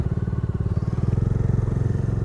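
A motorcycle engine thrums steadily at close range while riding on a road near Sohna Hills outside Delhi, its even pulsing beat loud and continuous with no talk over it.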